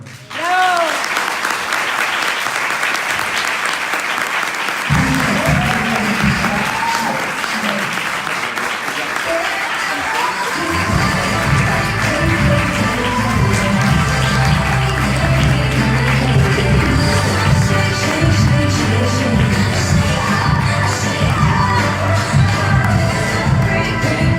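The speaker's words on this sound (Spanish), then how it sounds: "ayúdame a recibir con un fuerte aplauso al doctor Erwin Boller" An audience welcomes Dr. Erwin Moller with loud, sustained applause and cheering; music with a low bass line joins partway through, and voices mingle with the clapping.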